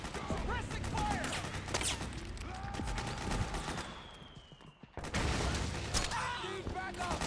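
Sustained gunfire from a firefight in the Metal Gear Solid 4: Guns of the Patriots video game, with rapid bursts and machine-gun rattle that cut out briefly and then resume. Shouted soldier voices can be heard under the shots.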